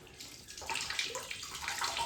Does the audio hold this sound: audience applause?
no